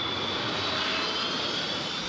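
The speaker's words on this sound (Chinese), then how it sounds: "风库当中一只客机准备降落，说伫个要到跑道的时阵，因为强风喊甲真厉害。" Passenger jet coming in to land in a strong gale at London Heathrow, its engines a steady, loud roar mixed with wind rush and no voices.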